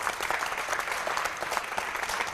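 Lively audience applause, a bright crackling patter of many hands clapping continuously and close, with no talking over it.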